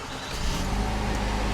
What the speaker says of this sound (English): what you're hearing there is a 2-liter turbo 4-cylinder